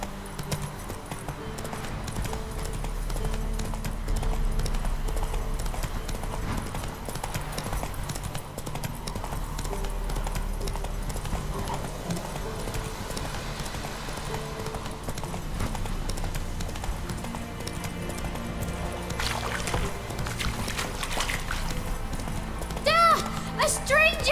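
Horse hooves clip-clop steadily at a gallop in The Witcher 3, a continuous rhythmic pounding under game music, with voices calling out over it.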